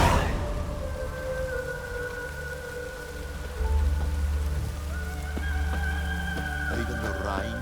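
Steady rain falls in a Witcher 3: Wild Hunt game scene, a continuous patter with faint drips and a low rumble underneath, alone with no talk.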